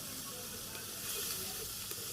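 Onion, onion paste and nut paste sauté in a pan, a soft steady sizzle and hiss, close and fairly faint, with a slight swell midway.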